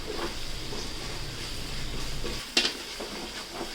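Masala for mutton biryani sizzling steadily in a pan while being stirred, a continuous frying hiss with a sharper scrape or clatter of the spoon partway through.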